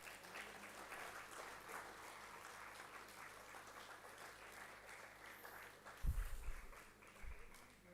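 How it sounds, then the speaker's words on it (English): A hall audience at a research centre's foundation day celebration applauds the chief guest with steady, sustained clapping. A few heavy thumps near the end sound like footsteps on a stage. "sir के लिए तालियां रुकनी नहीं चाहिए"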